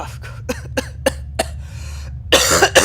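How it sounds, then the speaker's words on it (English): A person coughs in a string of six or seven short, sharp hacks spaced about a third of a second apart, followed by a harsher, rougher burst of coughing. "that fake cough turned into a real cough"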